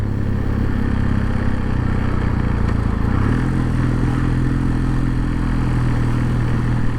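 A Kawasaki W800 motorcycle engine accelerates to overtake, a loud, close, continuous mechanical drone with the pitch shifting upward partway through, mixed with wind rush and road noise.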